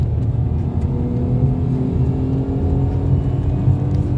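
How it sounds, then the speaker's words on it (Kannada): A 2020 Tata Tigor pulls hard through its gears from inside the cabin, a low steady engine drone and road rumble holding fairly loud with slight swells, no voices heard. "ಸೆಕೆಂಡ್ ಗೇರ್ 79 ತನಕ ಹೋಗುತ್ತೆ, ಅದು ಕೂಡ 5800 RPMಗೆ ಶಿಫ್ಟ್ ಆಗುತ್ತೆ."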